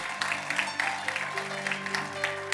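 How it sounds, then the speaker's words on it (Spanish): A church congregation gives the Lord a loud round of applause, quick rhythmic clapping from many people over held keyboard chords, lasting just a couple of seconds. "Denle un aplauso fuerte al Señor, porque Él es bueno."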